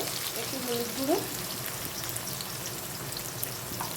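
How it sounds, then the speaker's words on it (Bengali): Potatoes frying in hot mustard oil give a faint, steady sizzle with a soft background hiss. A voice cuts in briefly. "তেলটা গরম হয়ে গেছে, আমি আলুটা দিয়ে প্রথমে ভেজে নেব।"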